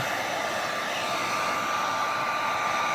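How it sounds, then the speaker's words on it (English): A heat gun blows hot air over an old L.L.Bean waxed-canvas Continental rucksack, producing a steady, loud whooshing hum with a thin whine that holds constant throughout, with no talking. "I'm gonna turn on the heat gun, and let it get hot."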